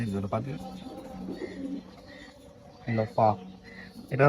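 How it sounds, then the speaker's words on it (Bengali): A pigeon coos in a loft close by, soft throaty calls repeating between bursts of someone talking over them. "এটি একটু রেয়ার কবুতর"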